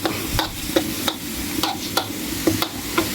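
Minced pork and basil stir-frying in a hot pan after a splash of water, with a steady sizzle under rhythmic scraping of the spatula against the pan, close and fairly loud.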